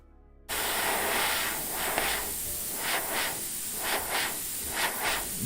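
A spray can hisses paint onto a guitar in a steady, close rush of noise that begins suddenly and keeps going, with faint pulsing shifts as the nozzle moves.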